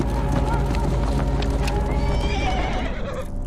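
A horse traded by a Native American tribe for a gun in a cowboy story lets out a loud, drawn-out neigh over close hoof clip-clops and a steady low rumble, with voices mixed underneath.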